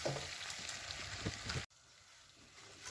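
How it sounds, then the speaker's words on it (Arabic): Food sizzling as it is sautéed in a pot while koshari is cooked with rice and vermicelli, a steady close frying hiss that cuts off abruptly, then continues more quietly. "نفضل نشوح شويه حلوين."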